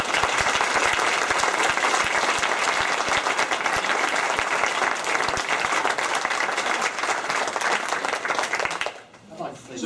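Audience at a town council regular session claps steadily for nearly nine seconds, a dense, loud spread of hand claps that cuts off abruptly near the end, leaving a quieter room.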